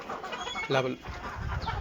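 Farm chickens cluck faintly after feeding, one short clucking call standing out briefly while a person speaks nearby.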